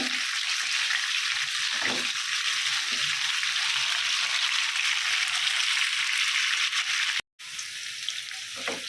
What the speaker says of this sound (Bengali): এই যে করলাগুলো কিন্তু তেলের মধ্যে ভেজে নিচ্ছে